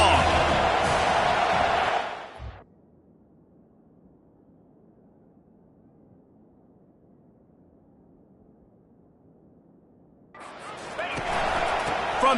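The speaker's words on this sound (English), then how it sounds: "Here comes the crowd trying to make it tough on 3rd and long." Stadium crowd roar in an American football video game on a third-and-long play, loud and broad at the start, cutting out to near quiet, then swelling back near the end.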